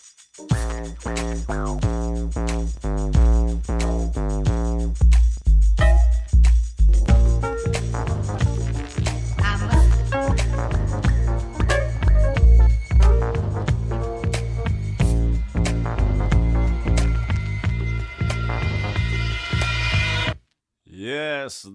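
Hip-hop track, a steady thumping beat with heavy bass and rhythmic vocals, loud and continuous before cutting out near the end.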